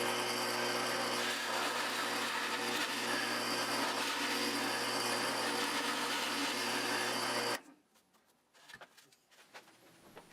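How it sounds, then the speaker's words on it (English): Power drill boring a hole in the center of glued wooden pieces, a loud continuous grinding whir for about seven and a half seconds, then stopping and leaving quieter handling knocks. "I drilled out a hole in the center of each one"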